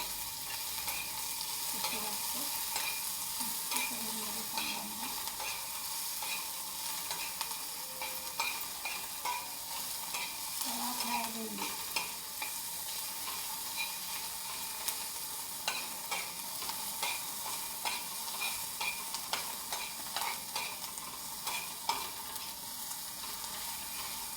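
Onions frying in a pan for a tawa okra dish give a steady, dense sizzle with scattered crackles and stirring scrapes that run for the whole stretch, close and fairly even in loudness.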